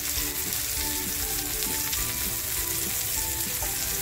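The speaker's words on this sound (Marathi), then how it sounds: "ते बांगडे मसाला लावून ठेवले ते फ्राय करायला घेते" Masala-coated mackerel (bangda) frying in very hot oil, a steady close sizzle with dense crackling spatter throughout, no voices.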